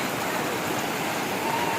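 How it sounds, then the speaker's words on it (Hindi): Umbrella Waterfall's fast-flowing water rushes in a steady, loud, broadband roar up close, continuous and unbroken, with no voices. "पानी का यहाँ पे काफ़ी ज़्यादा बहाव है"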